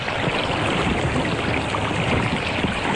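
Rushing river water in a children's story, a steady broadband wash of flowing current that fills the whole stretch without pause, loud and close, with no talking.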